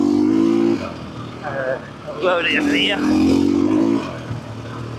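Motorbike engine pulling hard past half throttle on a dirt track ride, a steady loud drone with rising revving whine mid-clip, heard close up under wind and a rider's brief spoken remark.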